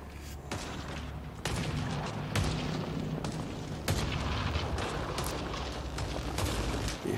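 Explosions and gunfire in a cave level of Mass Effect Andromeda: a dense, loud barrage of shots with heavy booms breaking through every second or two, and no voices.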